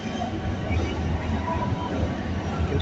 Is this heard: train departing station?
yes